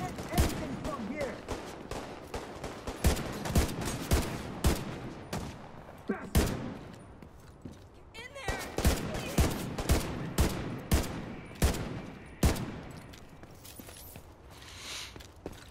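Single-fire assault rifle shots in The Division 2 video game, dozens of sharp cracks in rapid irregular bursts across the whole stretch with brief lulls, loud and close, with a voice speaking briefly in places.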